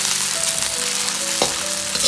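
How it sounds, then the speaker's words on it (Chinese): Marinated pork slices stir-fried in hot oil in a wok, a loud close sizzle with a spoon pushing and scraping through the meat, no voices. "把肉片炒散，表面稍微发白"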